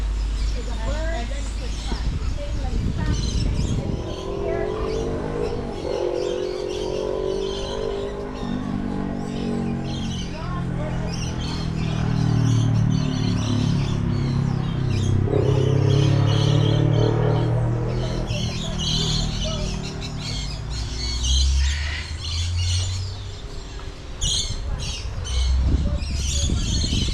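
A bird calling at Paradise Nature Park in Barbados, harsh squawks and chirps rising over a busy background of rustling and murmuring voices, with people talking nearby throughout.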